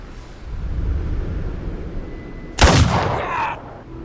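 Gunfire in Fallout: The Frontier mod, a single loud, sharp shot that bursts out after a low rumbling ambience and then tails off in a brief echo.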